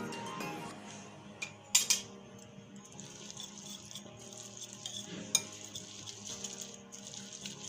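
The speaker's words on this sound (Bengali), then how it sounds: "এখন এগুলো সব ফেটে নিচ্ছি। এটা আপনি চামচ দিয়ে করতে পারেন বা হুঁচের দিয়ে করতে পারেন।" Eggs with chopped vegetables are beaten with a spoon in a bowl for a vegetable-and-egg paratha, giving quiet, steady stirring and scraping with a few sharp clinks of metal on the bowl.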